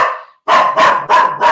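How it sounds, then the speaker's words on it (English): A dog barks four times in quick succession, close and loud, with a short yelp trailing off just before the run of barks. "Excuse me, that's my dog."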